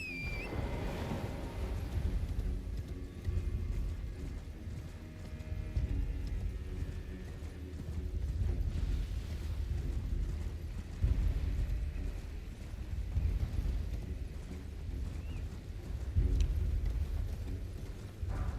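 Horse hooves clopping steadily during riding in the Elden Ring video game, a continuous rhythmic gait at moderate level over rumbling low game ambience.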